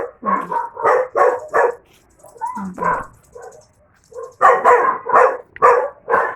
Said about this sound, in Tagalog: Ang aso,